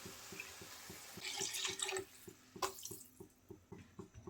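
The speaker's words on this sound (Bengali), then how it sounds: "পানি দিয়ে দেব পরিমাণ মতো করে" Water trickles into a pot of vegetables and scrambled egg for egg-vegetable noodle soup: a faint, low pour with a few drips, then a softer trickle.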